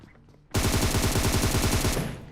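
Rapid automatic gunfire in a mobile battle royale shooter: a loud, continuous burst of evenly spaced shots that starts abruptly and runs for nearly two seconds before cutting off.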